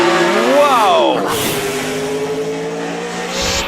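A 500-horsepower racing car that debuted in 1949 roars past at a hillclimb, its engine loud and rising as it accelerates through the gears, then fading into a steady distant drone.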